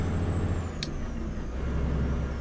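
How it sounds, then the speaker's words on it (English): A Volvo truck's engine hums low and steady while driving, a continuous close drone with a brief hiss of air near the start. "It's been a while since I've driven this truck. Just that has that steady hum"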